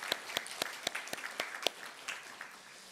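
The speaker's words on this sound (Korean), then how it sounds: "우리 잠깐 일어나시면은 우리 환영의 박수하도록 하겠습니다" Welcoming applause from a church congregation for visitors during a Sunday morning service: a few sparse, distinct claps at a fairly steady beat, then thinner, scattered clapping trailing off in a quiet room.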